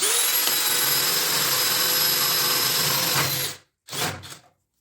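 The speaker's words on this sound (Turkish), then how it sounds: "Ve deliğimizi delelim." A cordless power drill with a 32 mm bit whines loudly and steadily as it bores through material, then cuts off, followed by two short bursts of the motor.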